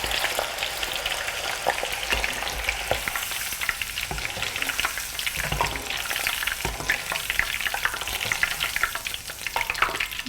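Green beans cut into bite-sized pieces fry in hot oil with a steady, dense sizzle and crackle, occasional stirring knocks breaking through, close and continuous with no voices.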